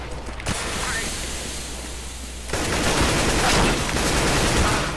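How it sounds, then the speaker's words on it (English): A flashbang going off during a CS:GO match, a sudden loud burst giving way to a sustained ringing hiss and wash of noise filling the rest of the moment, with no clear talk. "I'm throwing a flashbang."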